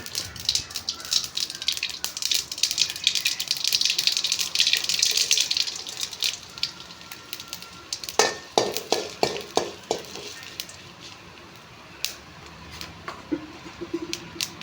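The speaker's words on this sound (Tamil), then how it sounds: "தாளிப்பு வடகம் கொஞ்சம் போட்டுக்கலாம் எங்கள் வீட்டிலே செஞ்சது" Homemade tempering vadagam dropped into hot oil with popped mustard seeds at home, giving a steady close sizzle with stirring scrapes, then a run of sharp spoon taps against the pan before the frying fades quieter.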